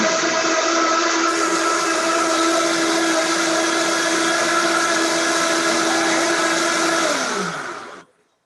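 A blender runs loud and steady at a constant high whine for several seconds during a live vegan cooking show, then winds down and stops at the end.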